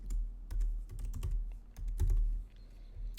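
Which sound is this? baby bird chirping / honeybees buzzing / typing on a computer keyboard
typing on a computer keyboard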